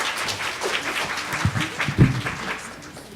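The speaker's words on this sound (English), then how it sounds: "Let's give another round of applause to our panel today." Audience members at a forensic science panel session give a round of applause, a moderate wash of scattered clapping from a crowd in a hall, fading toward the end.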